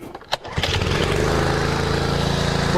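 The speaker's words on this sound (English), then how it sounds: "We're going to choke the unit all the way full choke. We'll start it up." A hydraulic power unit's small engine cranks on full choke and catches, a brief pull followed by a loud, steady, even-running idle up close with no talk.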